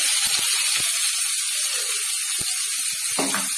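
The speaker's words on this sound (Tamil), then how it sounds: "இப்போ நம்ம கட் பண்ணி வச்சுருக்க வெங்காயத்துக்கு கூட ஆட் பண்ணிக்கலாம்" Chopped onions hitting hot oil with mustard seeds give a loud, steady sizzling hiss that fills the whole stretch, with a few faint low knocks and a brief clatter near the end.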